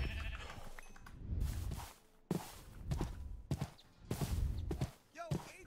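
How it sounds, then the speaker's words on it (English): Sheep bleat several times in RLCraft, a Minecraft modpack, amid game sounds and footsteps, with short breaks of silence between the louder passages. "See? Sheep."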